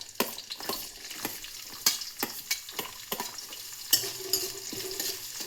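Green chilli and onion frying in hot oil with cumin and mustard seeds for masala noodles, a close steady sizzle broken by sharp spoon scrapes and stirring clatters against the pan.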